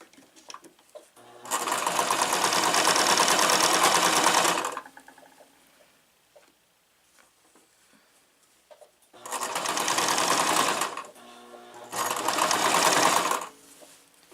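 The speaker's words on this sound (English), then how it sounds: "The beauty of sewing is that if you mess up a stitch, all you have to do is pull it out and start over." A sewing machine stitches a gothic fairy dress in three loud bursts, a long run of about three seconds, then two shorter runs, separated by quiet pauses with faint handling noise.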